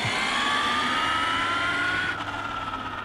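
Electric motor of a Losi Super Rock Rey RC truck revving hard in a sustained high whine that rises slowly in pitch, steady and loud, then dips slightly near the end.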